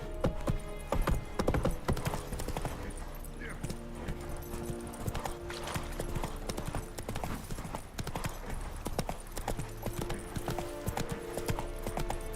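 Hooves of Roach, the horse in the video game The Witcher 3, clip-clopping in a steady trotting rhythm throughout, with a brief whinny, set among game sounds and a voice talking over it.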